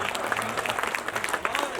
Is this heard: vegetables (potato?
no